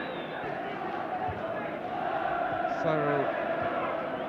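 A large football crowd roars steadily at Goodison Park during an Everton match in 1981, a dense, continuous wash of voices that swells slightly midway, with a commentator talking over it.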